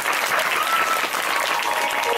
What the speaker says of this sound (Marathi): तर जोरदार टाळ्या.